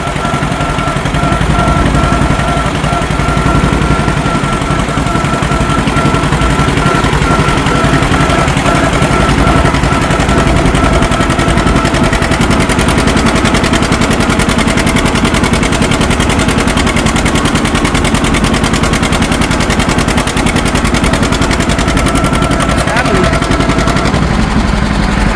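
A small John Deere B two-cylinder tractor, converted to BW, labors up a big hill, its engine popping in a rapid, loud, continuous rhythm close to the microphone throughout, with wind and mechanical rumble.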